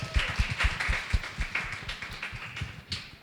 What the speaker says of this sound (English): So can we have a big round of applause for Joanne?